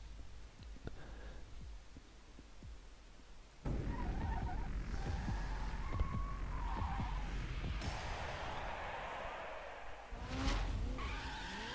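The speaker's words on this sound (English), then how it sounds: "I still need to do the drift" Car drifting with screeching tire skids in The Crew video game on a narrow freak-show track, a quieter stretch giving way to loud, sustained squealing skids and engine roar that swell again near the end.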